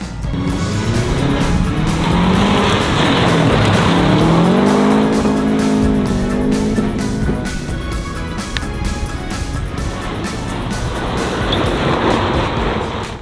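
A Subaru does handbrake slides on a frozen lake, its engine revving loud and close with rising and falling pitch, under a continuous hiss of tires on ice, with no talking.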